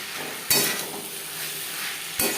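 Chopped potatoes are stirred into an onion and tomato masala frying in a pan, a continuous hissing sizzle broken by two sharp bursts of spoon-scraping and stirring.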